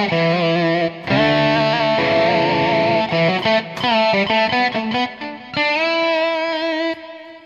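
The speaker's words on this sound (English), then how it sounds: "So we also have lead guitar tones," A lead tone preset from the Evolution Electric Guitar Strawberry sample library, played from a MIDI keyboard, gives a loud distorted lead guitar line of sustained bending notes and quick runs with slight chorus and reverb, no voices.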